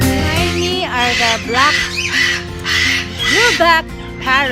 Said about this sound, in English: blueback parrot, or what we call the loro.